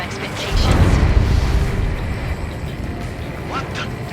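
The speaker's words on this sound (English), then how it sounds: "A huge explosion just went off underwater" An underwater explosion in the flight combat game Ace Combat 7 erupts with a heavy, deep boom that swells and then rolls on as a long, loud rumbling wash, with faint voices in the background.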